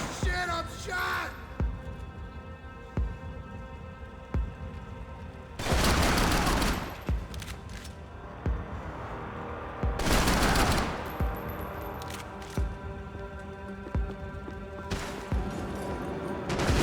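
Bursts of automatic gunfire from Max Payne 3 erupt in two long, loud volleys amid scattered single shots and crashes, with occasional shouting between the barrages.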